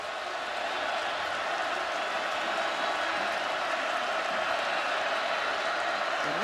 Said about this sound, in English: the crowd now starting to make some noise